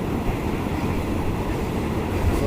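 A passenger train with about five coaches rolls along the rails as it approaches a large junction station, giving a continuous, loud, low rumble with faint rhythmic rattling throughout.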